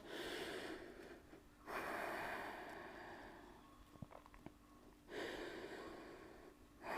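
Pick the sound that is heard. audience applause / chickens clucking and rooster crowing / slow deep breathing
slow deep breathing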